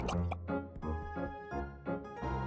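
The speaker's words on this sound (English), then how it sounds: "let's put some slime muck in this bucket and then pour it into the pitcher until it's full" Cartoon slime muck sloshes and plops as it is poured from a bucket into a pitcher, with wet glugging bursts in a rhythmic series of pours, close and moderately loud over a music bed.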